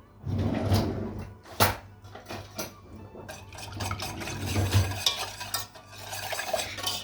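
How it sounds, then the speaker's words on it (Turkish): A hand whisk stirs cake batter with vanilla, flour and starch, making close, uneven swishing and clattering strokes against the bowl with a few sharper taps. "Çırpıcı yardımıyla güzelce karıştıralım."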